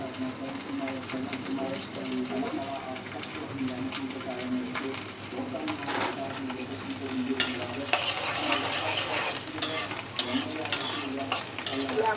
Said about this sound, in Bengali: চেপা শুটকি এখন টালবো।